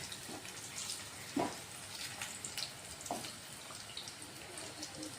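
Jackfruit and prawn koftas fry in hot oil with a steady, soft sizzle and a few brief splashy clinks as they are turned, no talking over it.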